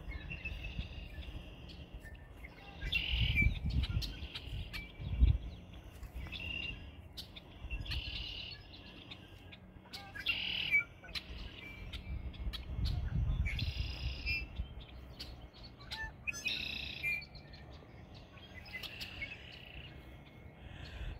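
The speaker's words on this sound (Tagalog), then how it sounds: "Ang ganda ng tinig ng mga ibon" Birds sing and chirp through a springtime outdoor setting, with repeated bright calls coming and going at moderate distance over a soft ambient background, no voices.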